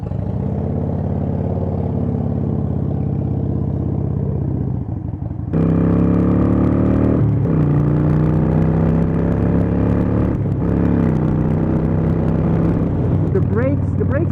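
A Harley-Davidson Iron 883 motorcycle idles with a steady low rumble, then pulls away in first gear, its engine note rising and climbing through revs with loud close throb, while a rider talks over it.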